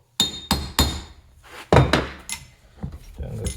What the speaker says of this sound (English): so here I'm going to use a little chisel.